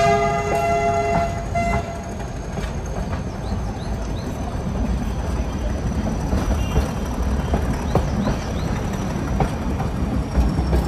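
The Ooty to Coonoor toy train rolls along with a low continuous rumble and clatter of wheels and carriages, a tonal horn-like toot near the start and faint high squeals scattered through.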